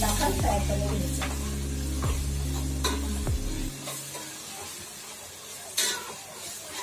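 An ingredient frying in oil until the oil separates, a steady close sizzle broken by several sharp stirring scrapes in the first half, then quieter bubbling with one more clatter near the end.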